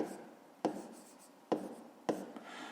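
Pen writing a maths solution in a notebook, three distinct strokes or taps over a soft continuous scratching, close and fairly quiet.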